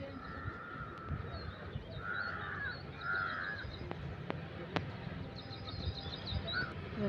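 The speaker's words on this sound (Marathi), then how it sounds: "सूर्योदय व्हायची वेळ झाला बघा, आणि म्हणजे गाणी चालू आहे, पक्ष्यांचा आवाज वगैरे." Crows caw repeatedly, with other birds calling, at sunrise outdoors. The calls sound fairly distant and are spaced over a quiet, faintly noisy background.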